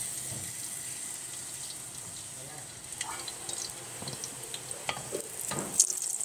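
Chopped onion sizzles in oil in a pan, a soft, steady hiss with scattered stirring clicks and scrapes, close by.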